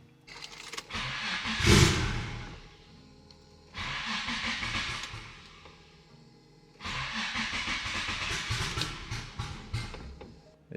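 A Nissan Z is cranked in three separate bursts of whirring, hissing mechanical noise, each lasting a second or more, with quiet gaps between, and the engine never catching.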